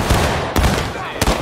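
Musket fire from a War of Rights battle, a line giving independent fire: sharp broadband shots crack at the start, again about midway and once more near the end, over a continuous rumble of distant battlefield gunfire.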